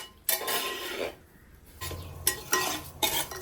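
A spoon stirs rava and raisins in a pan for mango rava kesari, with close metallic scrapes and clinks in uneven bursts, a short pause between them and a soft sizzle underneath.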